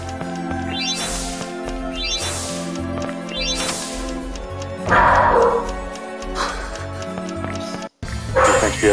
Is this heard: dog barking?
yes